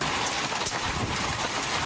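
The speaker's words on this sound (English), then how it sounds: "heavy rain and large chunks of hail slamming parts of Oklahoma" Heavy rain with hail pounding down during a severe Oklahoma storm, a dense, loud, continuous roar of hissing downpour and pelting impacts with no pauses.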